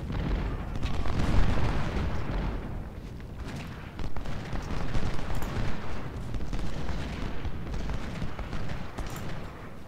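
Cannon and artillery fire in the Ultimate General: Civil War video game at the First Battle of Bull Run, a dense, continuous rumble of booms and bursts with no talk over it.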